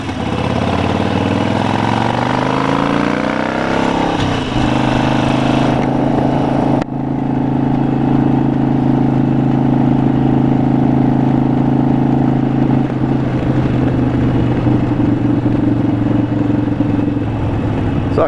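Harley-Davidson Sportster 72 XL1200V motorcycle ridden on a dirt road, its steady engine drone close and loud throughout, with a shift in pitch partway through as the rider changes speed, no talk.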